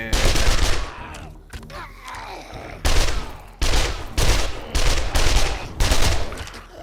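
SMG gunfire in the video game 7 Days to Die comes in loud rapid bursts, several separate volleys of automatic fire close up, broken by short pauses with other in-game noise between them.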